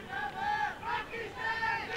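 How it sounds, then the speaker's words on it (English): Crowd at a cricket match between the Netherlands and Pakistan at the 2003 World Cup gives a brief swell of cheering and shouts, rising and falling over two seconds at moderate distance. "It brings a little bit of cheer in the crowd."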